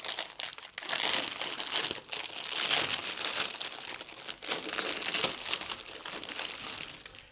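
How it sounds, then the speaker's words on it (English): Plastic wrapping is cut and pulled off a box of garden roses, producing continuous close crinkling and crackling of the plastic with brief pauses between handling bursts. "Key is undo the rubber bands, cut off the plastic,"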